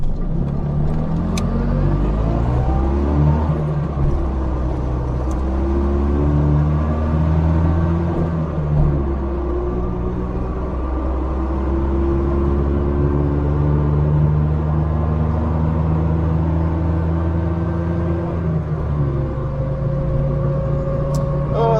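A Polski Fiat 126p, a small Polish car, accelerates hard toward 100 km/h, its engine droning steadily and rising in pitch through the gears, heard loudly from inside the cabin for over twenty seconds.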